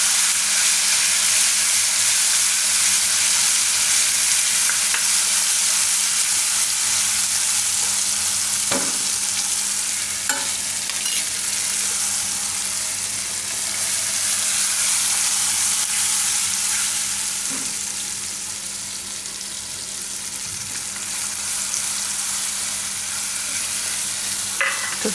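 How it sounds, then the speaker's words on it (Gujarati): Yogurt being stirred into hot oil in a pan over low gas heat with asafoetida, giving a steady, close sizzle and hiss with occasional soft clicks of a spoon against the pan. "ગેસ ધીમો રાખીને એને મિક્સ કરી દઈશું."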